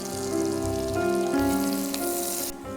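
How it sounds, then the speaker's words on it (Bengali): Garlic and thin-sliced mushrooms frying in a pan, a steady close crackling sizzle over a low humming tone, with no one speaking. "রসুনকে আমি একটু হালকা বাদামি করে ভেজে নিচ্ছি"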